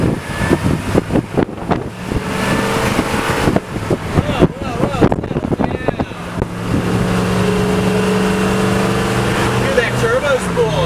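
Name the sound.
turbocharged tour bus engine accelerating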